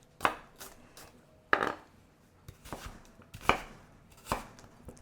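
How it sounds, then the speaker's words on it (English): A freshly sharpened knife chops an onion on a board, making about eight crisp, separate thuds in an uneven rhythm, close and alone. "we're just going to chop up this onion"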